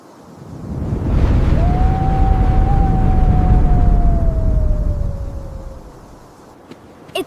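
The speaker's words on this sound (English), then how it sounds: "It's getting windy." Strong wind roars steadily for several seconds, rising and then easing off, with a thin sustained whistling tone running through the gusts.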